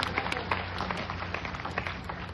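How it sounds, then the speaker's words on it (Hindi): An audience at a seminar claps steadily in a faint, distant patter of applause with no voices on top. "तो बजाओ दमदार वाली ताली ऐसे सिस्टम के लिए"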